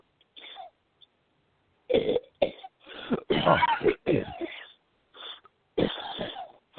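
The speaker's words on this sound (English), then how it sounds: "You keep coughing into my show." Someone coughing and clearing their throat in a series of harsh, broken bursts, close and loud, with brief pauses between the fits.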